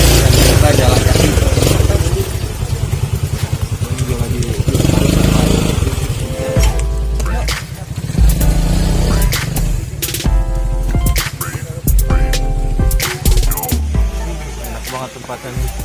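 A motorcycle engine runs loud and close while riding to a stop in Garut, its throb rising and falling with some revving, under a rough wind-buffeted jumble of noise.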